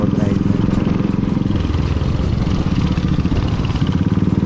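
A Royal Enfield motorcycle on a long road ride, its engine a loud steady thump with rumbling road and wind noise close by, while a rider talks over it.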